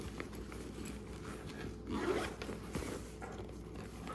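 A zipper drawn along a gray purse pocket, a short raspy scraping pull that rises briefly in the middle; close and fairly quiet, with no talking.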